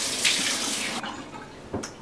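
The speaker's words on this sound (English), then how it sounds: "I'm gonna go ahead and rinse my face." Water from a bathroom tap runs steadily for face rinsing during a skincare routine, a close hiss that cuts off briefly and then returns with a splash near the end.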